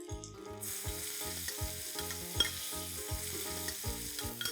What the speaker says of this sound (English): Let's add 2 medium-sized finely chopped onions.